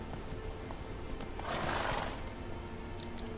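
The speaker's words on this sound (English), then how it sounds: "Whoa there, Roach" A horse in The Witcher 3 neighs over a steady bed of game ambience, with a whinny swelling briefly in the middle alongside faint hoof sounds.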